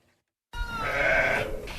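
A sheep on a small farm in Jay that makes sheep's milk yogurt gives one long, loud, close bleat lasting over a second after a brief silence, with no talk.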